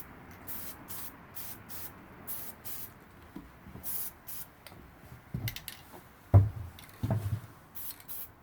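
Paint sprayer with a fan tip laying down a coat, delivering a quick series of short hissing bursts in a steady rhythm, close and fairly quiet, followed by some handling knocks and clatter.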